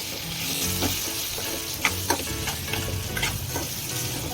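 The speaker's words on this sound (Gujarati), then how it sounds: "હવે આ બધું આપણે મિક્સ કરી નાખશું" Spiced gram flour and guava curry being stirred in a pan, a steady close sizzle broken by sharp scrapes and clicks of the spoon against the metal, with no voices.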